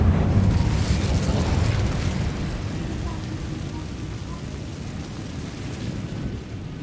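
The Incendio fire spell in Hogwarts Legacy on PS5 bursts out as a loud, deep roaring whoosh of flame that rumbles and slowly tapers off over several seconds.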